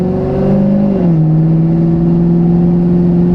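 A modified, high-horsepower Corvette ZR1 at full throttle, its loud close engine note climbing then dipping briefly at an automatic upshift before pulling on in a steady strong drone, with no voices.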